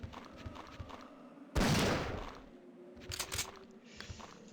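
A single sharp gunshot lands a headshot on a zombie in Resident Evil 3, a loud noisy burst that decays over about a second, followed by quieter game sounds and faint clicks.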